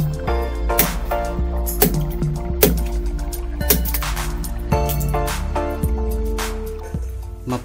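Coconut water from a young or mature coconut is poured into a homemade calcium plant-tonic mixture, making close wet drips, trickles and splashy glugs repeating at roughly one-second intervals, with no talking.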